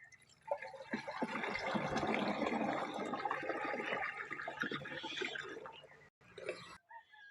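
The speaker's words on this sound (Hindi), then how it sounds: "और अब इस टैंकी को फुल कर देते हैं पानी के साथ।" Water gushes into a spray tank in a steady, rushing fill for about five seconds, then cuts off, followed by a few brief splashes.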